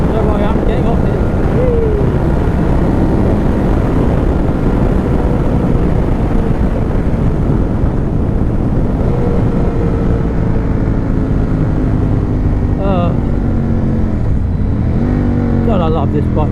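A motorcycle ridden on a road, its engine droning loud and steady throughout with rising and falling revs and heavy wind rush, a voice talking over it.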